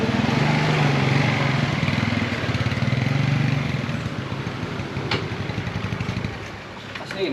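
A motorcycle engine runs nearby with a steady, buzzing putter that eases slightly in level partway through, while people talk over it.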